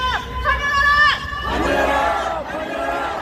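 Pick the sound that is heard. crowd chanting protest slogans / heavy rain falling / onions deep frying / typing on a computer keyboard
crowd chanting protest slogans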